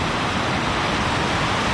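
A small waterfall on the São Jorge river canyon pours in a dense, loud, steady roar of rushing water heard up close, with no voices.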